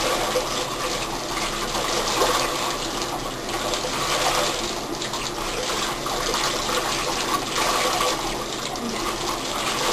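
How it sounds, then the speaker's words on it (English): Tie-dyed fabric being rinsed under running water in a bathtub, a loud steady rush and splash of tap water with sloshing and occasional clinks, continuous and close throughout. "this is where I get in the bathtub. Really get in there and rinse it good."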